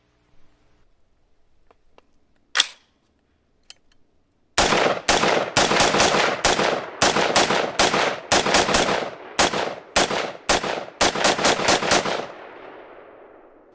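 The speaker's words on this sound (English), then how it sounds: "By closing the bolt and turning the selector lever to semi, the rifle will fire semi-automatically." Aero Precision AR rifle with a 20-inch upper fired semi-automatically outdoors, a quick string of loud sharp shots at an uneven rapid pace after a few faint clicks, ending with a fading echo.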